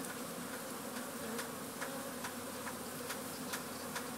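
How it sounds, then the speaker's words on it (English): Honeybees stream out of a Warre hive on a late-winter day in Alberta, a dense steady buzzing swarm with individual bees zipping close past the microphone now and then, no voices present. "There are some busy March bees."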